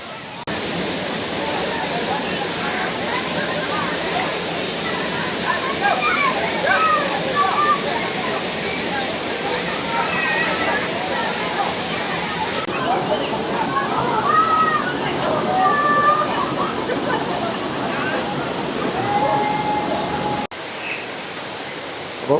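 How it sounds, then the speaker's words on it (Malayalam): Vattayi waterfall in a forest sends a steady, full rush of falling water from nearby, and voices murmur faintly beneath the constant roar. "ഇത് ഈ കാണുന്നത് ഈ ഭാഗത്തൂടെയാണ് വെള്ളം ഒലിച്ച് വന്ന് ഇവിടെ വന്നിട്ടാണ് വീഴുന്നത്."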